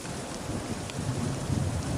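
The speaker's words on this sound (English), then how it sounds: "There is heavy rain and water on the tracks." Heavy rain falls in a dense, steady hiss with faint low rumbles of thunder beneath it, continuous and unbroken.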